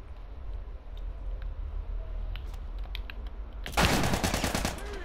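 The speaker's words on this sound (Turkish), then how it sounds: "Ben adama kafasından sıkıyorum." Gunfire in The Last of Us Remastered, a fast burst of rapid shots erupting loudly after a few scattered clicks and taps over a quiet background.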